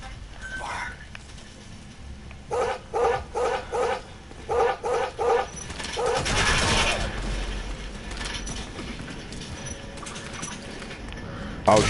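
Companion dog barking in a stealth military action game: a regular run of about seven loud, evenly spaced barks in two groups, followed by a noisy burst and low ambient game sound.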